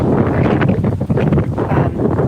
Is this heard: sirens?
no